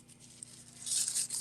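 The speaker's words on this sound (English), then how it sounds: "take your tissue paper and crumple it up." Tissue paper being crumpled by hand for a faux silk craft technique, a soft crackling rustle that swells to a louder, denser crinkle in the second half, close up with no talking.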